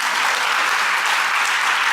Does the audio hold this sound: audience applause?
yes